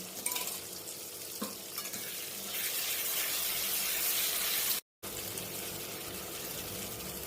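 Ginger, garlic, pepper and green chilli paste frying with turmeric in a pan, a steady close sizzle that stays even throughout apart from a brief dropout near the end.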